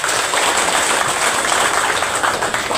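Dense applause from an audience at an official visit in North Padang Lawas, a steady wash of many hands clapping throughout, loud and continuous with no pauses.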